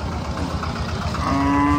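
A cow lowing at a cattle market, one short moo rising over the crowd's murmur toward the end, close and fairly loud.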